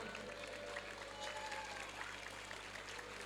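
Students clapping at a high school flag ceremony, a faint, distant, steady patter of applause over a constant low hum, with some voices mixed in.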